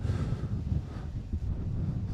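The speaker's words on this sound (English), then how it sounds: "Very windy out here today" Low, gusty wind rumbling against the microphone in uneven buffets at a rowing regatta, dull and continuous with no voices.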